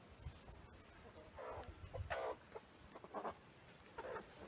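Chickens grazing in a village yard in Ukraine give soft, scattered clucks, faint and intermittent, several short calls over a quiet outdoor background.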